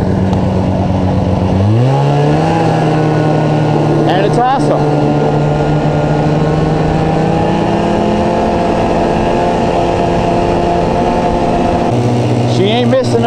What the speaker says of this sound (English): So it's a 1981 Moto-Ski Mirage 2. It's got a 377 fan cooled Rotax engine.